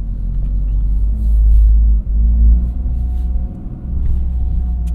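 A Toyota GR Corolla drives with a deep, steady engine and exhaust drone, a brief dip then rising again, heard loud and close from the cabin.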